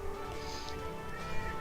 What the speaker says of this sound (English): but she's meowing